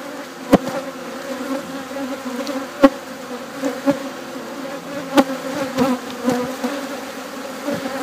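Honeybees buzz steadily around open hives during an outdoor hive inspection in Florida, a dense continuous drone with a few sharp clicks and taps throughout, no voices.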